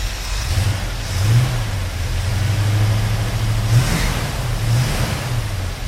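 A Ford Mustang Mach 1 engine idling rough while cold, a loud close low rumble with uneven lumpy pulses and a couple of slight revs.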